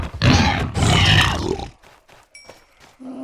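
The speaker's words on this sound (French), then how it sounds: "Les piglins. Ils font des bruits assez étranges." Minecraft piglins make two loud, harsh grunting snorts in quick succession, followed by softer shuffling game noises and a brief high tone.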